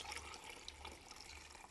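Water poured into a newly bought bird bath fountain, a steady soft splashing and trickling that runs continuously, fairly quiet and close, with no voices.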